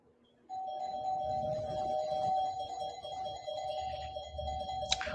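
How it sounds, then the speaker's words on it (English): A doorbell rings at a house, a sustained electronic chime tone that starts abruptly and holds steadily, with a faint low rumble beneath and a brief click near the end. "She's outside ringing the doorbell."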